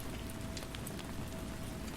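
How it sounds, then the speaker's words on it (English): Gentle rain falls steadily at twilight, a soft, unbroken hiss with faint scattered drop ticks, even in level and uninterrupted by voices. "The rain's gentle serenade persisted, a constant companion in the twilight hours."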